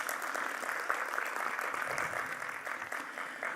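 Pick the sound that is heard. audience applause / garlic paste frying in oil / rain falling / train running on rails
audience applause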